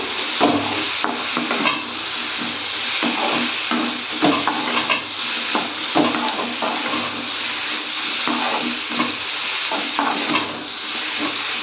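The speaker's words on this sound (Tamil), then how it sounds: "பீர்க்கங்காய் சேர்த்துக்கலாம் சேர்த்துட்டு நல்லா கலந்து விடுங்க" Ridge gourd being stirred into a moong dal curry in a pan: repeated scraping strokes and soft clatter over a wet, simmering sizzle, close up and fairly loud, with no talking.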